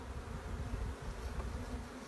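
Honey bees in a nuc hive buzz softly and steadily during an open hive inspection, a faint continuous drone with no voices.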